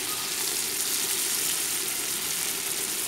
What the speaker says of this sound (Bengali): এই জন্য আমি আলুটা ভাজি দিলাম।